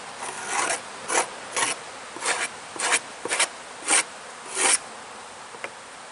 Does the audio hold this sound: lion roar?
no